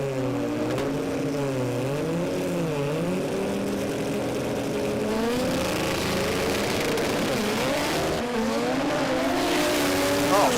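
A drag racing car launches down the strip at a Brisbane drag racing event, its engine roaring with rising and falling pitch sweeps, loud and continuous, with crowd and track noise underneath.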